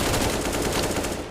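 Rapid automatic gunfire from a Counter-Strike match on the Vertigo map, a dense, loud burst of shots lasting just over a second with no talk over it.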